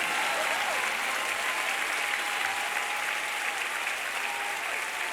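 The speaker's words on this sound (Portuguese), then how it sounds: "Será que você pode aplaudir ao Rei dos Reis essa noite?" Congregation at a Brazilian communion service applauding, sustained even clapping from many hands across the whole stretch, loud and unbroken, with a faint musical tone underneath.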